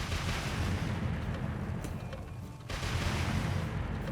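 Sustained heavy rumbling blasts as a military APC fires missiles into a rock in 7 Days to Die, a continuous roaring barrage that dips briefly in the middle and then resumes at full force.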